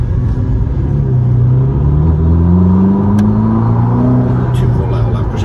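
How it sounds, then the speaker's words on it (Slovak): A Ferrari SF90 Assetto Fiorano, a roughly 1000-horsepower hybrid supercar, accelerates hard. Its loud engine rumble rises steadily in pitch, heard from inside the cabin, while people talk over it throughout. "Ale mne sa páči, ak to turbo začne tam akože svišťať"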